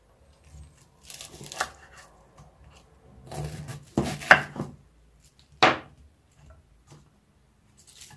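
Several separate crisp slicing crunches as a knife cuts through cabbage, with soft handling sounds and quiet gaps between the cuts.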